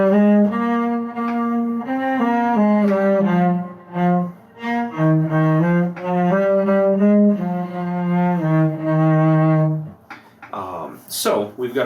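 A solo cello plays the Gavotte in C Minor from Suzuki Book 3, a steady melodic line of bowed notes with clear shifts, close and loud, ending in a brief noisy bow scrape.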